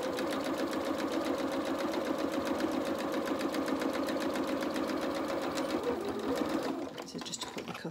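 A sewing machine stitches a cuff edge on the sleeve of a doll's t-shirt dress, running as a fast, steady, close mechanical whir for about seven seconds before stopping.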